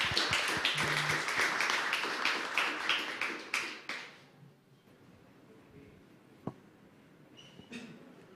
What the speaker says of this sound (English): please a big round of applause for Andres from Minkedu